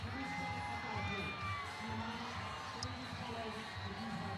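Crowd noise at the Las Vegas Pride Parade, with continuous cheering, whoops and shouting from spectators lining the street, steady and fairly dense throughout, with a faint whistle partway through.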